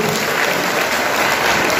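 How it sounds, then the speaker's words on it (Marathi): Loud, sustained applause from a lecture audience at a talk on home remedies by Dr. Swagat Todkar, a thick, uniform roar of many clapping hands with no pauses. "त्यांच्यासाठी एक जोरदार टाळ्या वाजवून"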